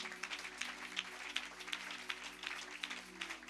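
A church congregation applauds the Lord with sustained, even clapping that is moderately distant and continuous, without talk.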